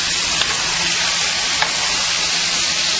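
Thick pieces of chicken sautéing in a pan, a loud, close, continuous sizzle and crackle of frying with a couple of brief sharper pops.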